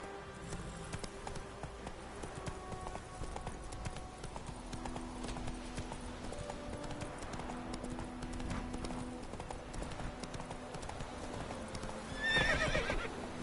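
Roach, a horse in The Witcher 3, clip-clops steadily at a walk or trot throughout, with a whinny breaking out near the end over continuous game ambience.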